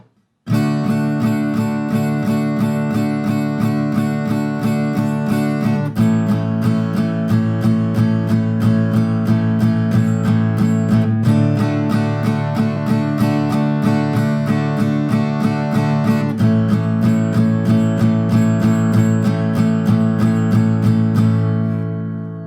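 Steady strummed guitar chords repeat in an even rhythm, a chord progression from a song, full and loud, shifting chord every few seconds with no voice over them.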